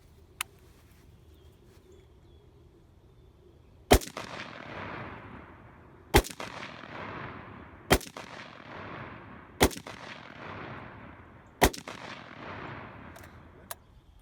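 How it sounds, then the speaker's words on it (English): A DSA FAL rifle fires 147 grain rounds at a 100-yard range, heard as five or six sharp, loud reports spaced a couple of seconds apart, each trailing off in a long echo across open ground. "I just took 3 shots with some 147 grain up at the hill at 100 yards"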